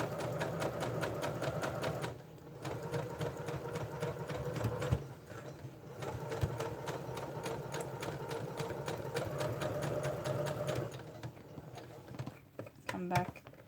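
A sewing machine stitches a leather wallet insert in rapid, even bursts of mechanical clatter, pausing briefly and then resuming, ending with a few short back-and-forth stitches.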